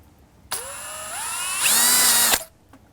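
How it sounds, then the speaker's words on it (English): A power drill with a 1/8 inch bit bores a screw hole for an Andersen 400 Series storm door, whining up in pitch, then straining louder before stopping abruptly, about two seconds of close drilling. "I'm going to use my 1/8 inch drill bit, drill a hole right here and right here for these screws"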